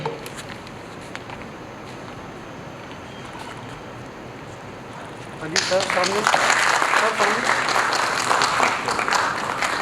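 After several seconds of quiet room noise, applause from an audience at a Hindi-language cooperative function breaks out abruptly and continues as a steady, fairly loud clatter of clapping.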